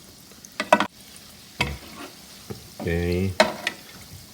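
Chicken balls frying in oil over medium-low heat, a steady close sizzle with a few sharp stirring clatters and a brief spoken word.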